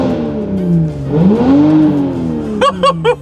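A 2020 Toyota Supra with an aftermarket downpipe exhaust revs up from idle in a loud, rising swell, settles back, then lets out three quick sharp blips with crackling pops, heard close from inside the car.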